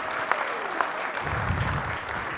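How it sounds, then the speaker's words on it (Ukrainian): An audience at a children's Christian club event applauds the Awana team, a dense, steady wash of clapping from a crowd filling the room and continuing throughout. "давайте їх теж зустрінемо оплесками"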